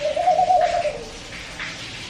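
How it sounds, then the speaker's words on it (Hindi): A bird calls close to a home veranda, a single soft cooing phrase sounding over steady background hiss from the surroundings. "कौन सी चिड़िया है"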